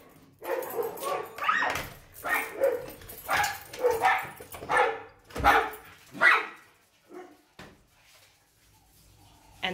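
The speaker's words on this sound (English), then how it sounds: "My dogs are going crazy." Several dogs bark in repeated bursts, loud and close, the barking fading out toward the end.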